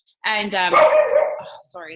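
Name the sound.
dog barking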